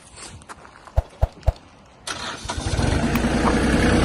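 A Kubota KL-25 mini tractor engine cranks with three heavy thumps, then catches and settles into a loud, steady idle close by.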